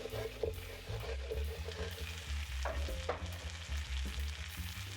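Potatoes frying in butter in a pan give a steady, close sizzle and crackle throughout, with occasional stirring scrapes and no voices.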